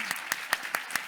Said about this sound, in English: So maybe we can just give a round of applause.